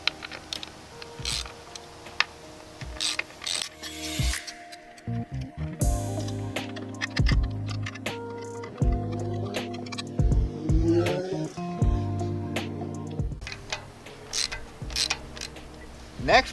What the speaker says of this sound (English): To remove it, I'll be using a 3/8 inch socket.